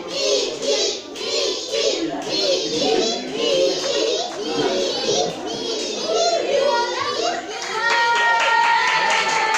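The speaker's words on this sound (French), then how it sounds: "Ah, on applaudit Mickey." Young children clap and chatter together for Mickey at a lively kids' show, a dense patter of small hands mixed with excited voices and shouts throughout.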